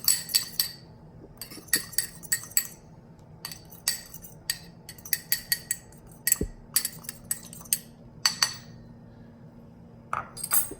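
A spoon clinks and taps against a bowl in quick irregular runs while chickpea seasoning with garlic powder, smoked paprika and pepper is mixed. The bright metallic ticks are close and clear over quiet background, with no voices.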